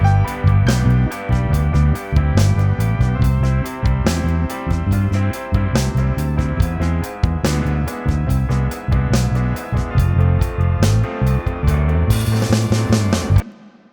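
Lo-fi piano chords and melody, roughed up with stock DAW plugins to mimic a vintage signal path, playing loud and continuous with a steady rhythmic pulse and beat for the whole stretch, with no talking.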